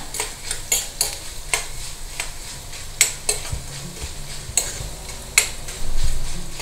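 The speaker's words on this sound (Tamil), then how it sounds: "கட்டி பெருங்காயம், ஒரு 2 கட்டி பெருங்காயம் போடுறேன். வறுபடட்டும் நல்லா." Dried manathakkali berries and lumps of asafoetida fry in hot oil while a spoon stirs them, giving sharp, irregular clicks and scrapes against the pan over a soft sizzle, close and without talk.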